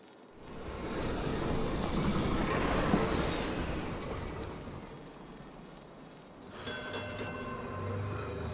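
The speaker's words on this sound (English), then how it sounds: "Sounds like a train." A train rumbles by in the puzzle video game Gorogoa, a broad steady roll that swells and fades, then ends in a brighter clanking, ringing stretch of metallic rail sound.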